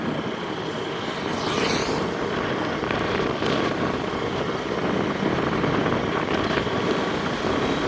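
Strong post-storm wind roaring through a banana plantation in Jaffna, a loud, steady broadband rush with gusty swells, heard alone without talk.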